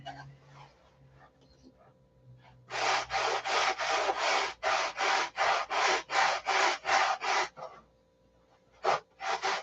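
Rhythmic rasping strokes of sandpaper worked back and forth over a SIG Magnum fuse, about a dozen loud, even passes in a steady run, followed by two isolated strokes after a brief pause.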